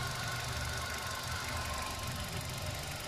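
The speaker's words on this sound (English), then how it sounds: "hesitating engine." A car engine runs unevenly and hesitates because of a faulty oxygen sensor, a steady close mechanical drone with a knocking, rattling undertone and no talk over it.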